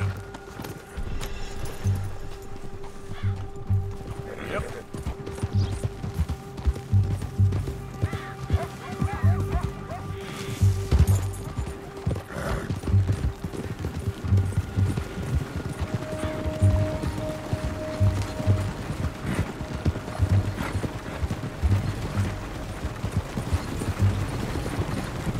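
Horse hooves gallop in Red Dead Redemption 2, a steady rhythmic clip-clop running the whole time under a dense game soundscape of low rumble, mechanical noises and a faint musical drone.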